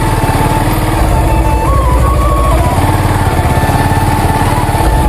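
A motorcycle with a low fuel tank runs along a rough village road, its engine chugging loudly and steadily up close, with a brief rising whine midway.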